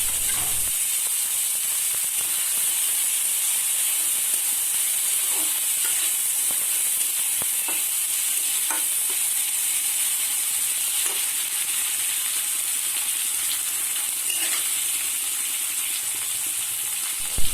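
Tomato goes into hot oil already spiced with cumin and radhuni for a chana dal with young jackfruit. It makes a constant, even hiss and sizzle, with faint ticks scattered through and no voices.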